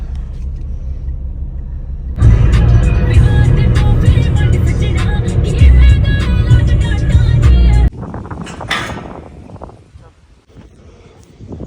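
Road noise inside a moving car starts abruptly as a loud steady rumble with wind buffeting, then cuts off to quieter cabin sounds and small knocks.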